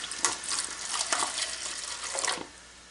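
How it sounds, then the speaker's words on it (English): Water boiling in a pot on a stove: an irregular hissing, bubbling wash with a few louder surges, fairly quiet and in the background, then easing off near the end. "as you can hear in the background, I got some water boiling"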